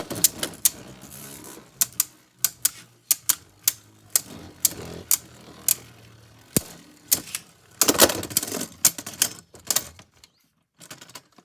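Beyblade tops, Xcalius against left-spin Salamander, clash in a stadium battle, giving a rapid series of sharp clicking impacts and scraping hits that crowd together near the end before fading out.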